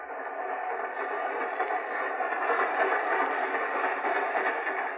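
Train ride effect for a radio drama, a continuous band-limited rumble and clatter of a moving rail car that holds steady and fairly loud for the whole stretch, with no talk over it.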